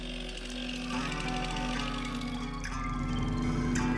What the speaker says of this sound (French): un sculpteur sur bois, qui réalise toutes ses œuvres à la tronçonneuse